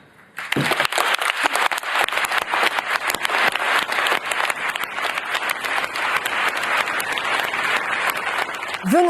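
Long, sustained applause in the plenary hall at the COP28 climate conference after adoption of the final agreement, starting abruptly after a moment of quiet and continuing as a dense, crisp clapping crowd for several seconds.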